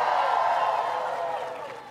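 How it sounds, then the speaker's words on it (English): A crowd at an Arizona watch party in Mesa applauds and cheers for Marco, dense sustained clapping that fades slightly toward the end. "One more round of applause for Marco."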